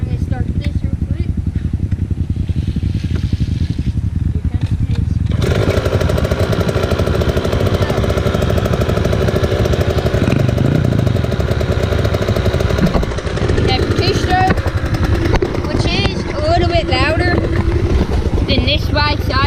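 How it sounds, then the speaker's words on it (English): A two-stroke dirt bike engine fires up and settles into a loud, close, continuous idle with a rough, buzzing tone. "This bike's idle. Has a lower sound than 4-stroke."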